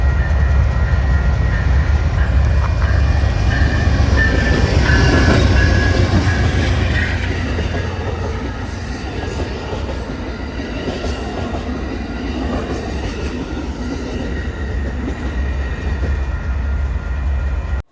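Amtrak Texas Eagle passenger train led by a P42 locomotive passing close by, a loud steady rumble of rail cars and wheels with faint squeals, swelling around the middle and holding on throughout.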